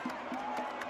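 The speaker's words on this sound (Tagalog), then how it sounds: "Grabe hiyawan yung mga tao." A boxing arena crowd at a Manny Pacquiao welterweight fight roars and whoops from a distance, a faint swelling din with a few sharper rises.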